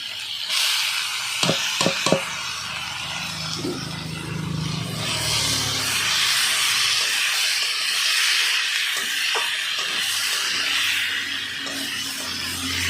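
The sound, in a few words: banana flower frying with potatoes and spices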